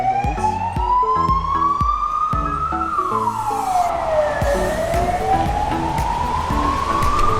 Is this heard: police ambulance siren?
yes